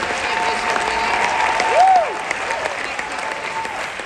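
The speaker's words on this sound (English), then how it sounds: "Can we give a round of applause because we have the 2021 and 2022 national championship winners." A theater audience at a WNBA film screening applauds the 2021 and 2022 national championship winners, steady moderate clapping that carries on throughout with a faint tone rising and falling briefly midway.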